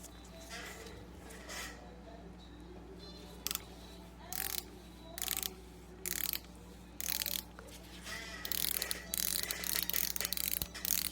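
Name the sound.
unscrewing needle bar screws on a Singer sewing machine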